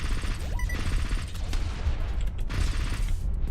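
Shotgun fire in the video game Riven, a rapid string of loud, crunchy blasts layered over a busy game soundscape, with no one talking.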